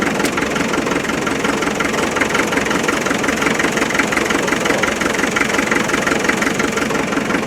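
A 1991 ex-MOD Land Rover 90 with a 2.5 naturally aspirated engine runs at idle close by, a loud, steady, rough clatter with a regular knocking pulse and no talk over it.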